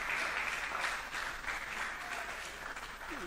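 Applause for a third-place school at a quiz competition, a steady wash of clapping from an audience, moderately loud, thinning slightly toward the end.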